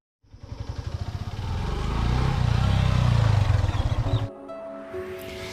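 A motorcycle rides along a forest road on the way to Rosemala through Shendurney forest, its engine starting with rapid pulsing revs, then rising into a loud steady drone before dropping abruptly to a quieter idle with faint tonal sounds.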